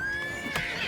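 A horse in the video game Oblivion Remastered whinnies once in a short, fairly close call, rising briefly over steady game ambience and sustained background tones.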